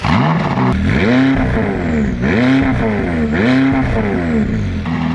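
McLaren 570S with its 562-horsepower engine and twin large exhausts being revved repeatedly, loud close rising and falling sweeps of engine pitch in several bursts without pause.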